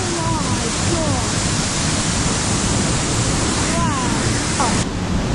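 Tvinnefossen waterfall in Nordfjordeid, Norway roars steadily and loudly up close as a dense, unbroken rush of water, with faint voices talking briefly underneath.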